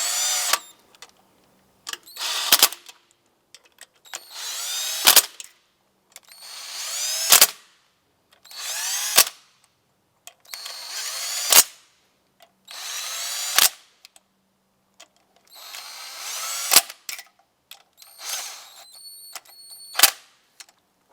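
A power drill spins bolts down on a 2004–2008 Acura TL during a knock sensor replacement, about nine short loud whirring bursts in a steady rhythm, close up, with quiet pauses between them.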